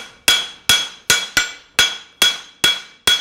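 A hammer strikes a horseshoe on an anvil to flatten its hoof side: eight sharp, ringing metallic blows at a steady, slightly uneven pace, each fading quickly, close and loud.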